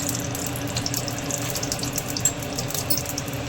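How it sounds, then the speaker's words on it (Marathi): Slices of bread fry in hot ghee for shahi tukda, giving off a steady, close sizzling hiss that holds evenly throughout with no talking. "यामध्ये हे ब्रेड भाजून घेत आहे फ्राय करून घेत आहे"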